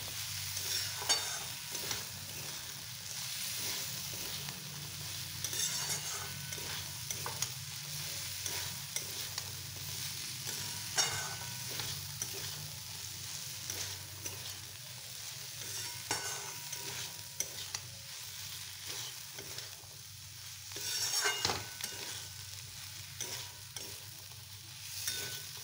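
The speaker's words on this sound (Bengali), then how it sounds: "এরপর দেখো আলু আর মটরটা দিয়ে ভালোভাবে কষিয়ে নেব।" Potatoes and peas for ghugni sautéing in a pan, a steady close sizzle and frying hiss with repeated spoon scrapes and stirring, continuous for the whole stretch with no talking.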